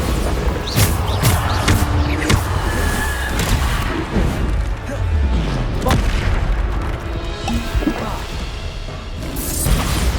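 Bombarda spell explosions in the video game Hogwarts Legacy, a dense run of loud booms and crashes layered over continuous combat noise, with brief voices in between.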